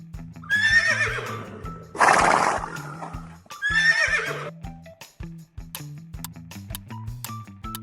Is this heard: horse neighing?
yes